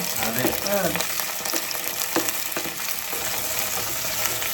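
Okra frying in a pan for a Kerala-style curry, with a steady close sizzle and occasional stirring scrapes, plus a brief faint voice early on.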